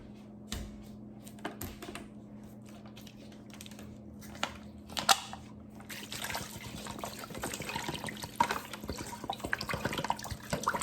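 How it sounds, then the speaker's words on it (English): A bottle of water poured into a cooking pot of oxtail, a faint, close trickle and splash with small clinks, growing a little busier toward the end, with no talking. "I'm gonna add some water."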